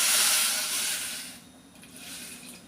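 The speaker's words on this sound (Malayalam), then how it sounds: "ഒരു 1/2 കപ്പ് വെള്ളം ഒഴിച്ചു കൊടുക്കാം." Half a cup of water hits a hot pan on a lit stove and erupts into a loud, bright hiss that fades over a couple of seconds, with no talking.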